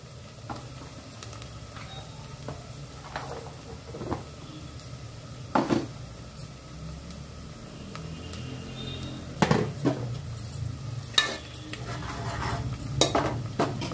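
Onions and goat head curry fry in a pan, giving a continuous sizzle broken by repeated scraping and knocking as a utensil stirs against the metal, some strokes louder and closer than others.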